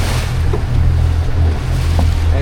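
Small waves stand up and break over a shallow sandbar in a North Carolina inlet beside a boat, a steady loud wash of surf with low wind rumble against the microphone and no voices.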